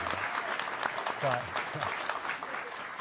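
Studio audience applauding during a live cooking broadcast, a dense steady wash of clapping throughout with a voice speaking briefly over it.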